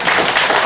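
A press-conference audience bursts into a short spell of dense, broadband clapping, a steady patter of many hands with no lull.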